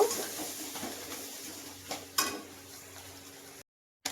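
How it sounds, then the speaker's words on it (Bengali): Masala being stirred and fried in a pan, with faint, steady sizzling under scattered metal scrapes of a spoon against the pan, a couple of sharper clinks near the middle, and a short silent gap near the end. "এর মধ্যে তো এবার খুব সুন্দর করে মশলাটাকে কষিয়ে নেব"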